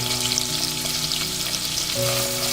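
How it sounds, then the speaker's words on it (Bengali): Potatoes fry in hot oil in a pan, the oil already used for paneer, producing a steady, dense sizzle up close with a faint stove hum beneath and no speech. "এবারে এই তেলেই আমি আলুটাকে ভেজে নেব।"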